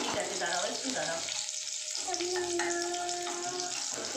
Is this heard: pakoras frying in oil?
yes